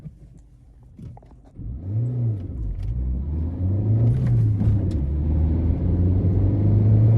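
A Citroën small car's engine revs up under acceleration, a low rumble rising in pitch after a quiet idle, then holding a steady, louder drone as the car pulls away.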